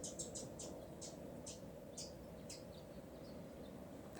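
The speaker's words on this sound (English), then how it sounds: "That's a happy bird." A small bird chirps in regular high, short notes about twice a second, slightly distant over a steady low outdoor hum.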